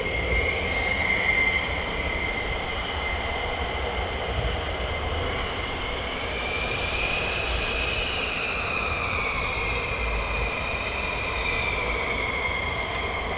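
A military jet roars on takeoff at RAF Lakenheath, a loud sustained engine rumble with a shifting high whine that swells and slowly recedes.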